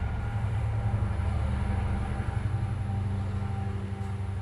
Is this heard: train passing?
yes